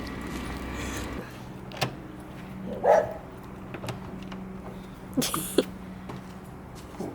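Stray dogs in a Roma village in Romania give a few scattered barks at moderate distance, short sharp bursts over low outdoor background noise with faint engine rumble.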